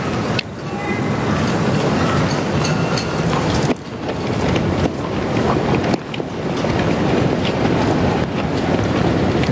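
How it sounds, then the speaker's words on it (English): Strong wind gusting through flags high above an outdoor tennis stadium during a 2005 Toronto women's final, a loud continuous roaring rush with brief dips, no talk over it. "You can actually hear the wind now through those flags at the top."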